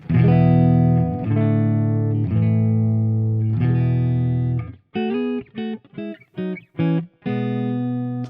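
An electric guitar on its neck pickup plays straight into an amp with the overdrive pedal bypassed: several long sustained chords ring out loud and full, followed by a run of short, choppy staccato stabs and a final held chord.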